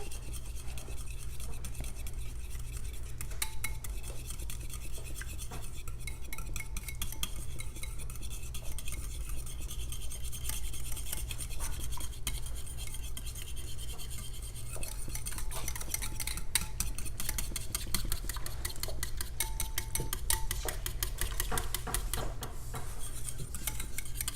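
A whisk working through ingredients in a bowl: fast, steady rattling scrapes against the sides, fairly faint and continuous, with no talking.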